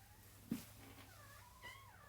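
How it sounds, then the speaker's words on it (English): A loud house cat wearing a cone lets out a short, faint meow under steady low background hum, with a brief second cry a moment later. "I have a very loud, annoying cat that has to scratch his cone"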